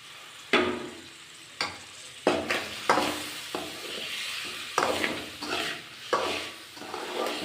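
Potatoes go into a frying pan with green chillies, and a spoon stirs them. A sizzle runs under repeated sharp scrapes and clatters of the spoon against the pan, roughly every second.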